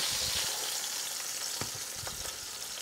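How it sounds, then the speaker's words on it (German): A herb-crusted pork roast sears in a hot pan, a steady broadband sizzle running throughout with a few sharper spits and pops, close and moderately loud, no voices. "Nach 2 Minuten wenden wir das Fleisch und braten es von der anderen Seite noch an."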